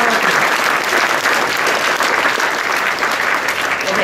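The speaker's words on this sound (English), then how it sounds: "Give everyone a round of applause." Audience applause at the CES 2013 Last Gadget Standing event, a dense steady roar of clapping from a large crowd, loud and sustained throughout without a break.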